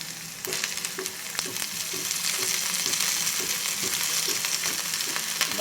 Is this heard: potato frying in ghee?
yes